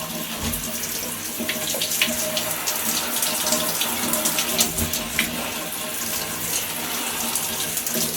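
Tap water pours steadily while a dog is bathed, a continuous close splashing stream running for the whole stretch with small spatters on top.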